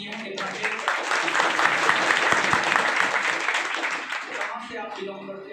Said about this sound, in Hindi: तो एक बार ताली बजा ही नहीं है